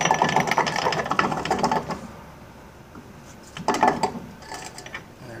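Metallic clicking and rattling as the reverse gear is tilted and jiggled out of a Johnson/Evinrude V4/V6 outboard lower-unit gearcase, in two short bursts with a quiet pause between.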